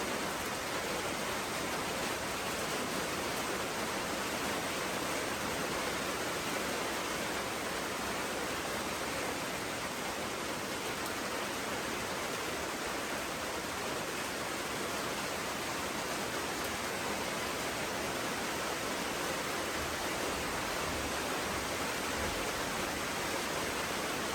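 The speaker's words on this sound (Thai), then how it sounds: "ฝนตกทุกคน" Steady, dense hiss of rain falling in the Thai countryside, an unbroken wash of sound filling the whole stretch with no voices over it.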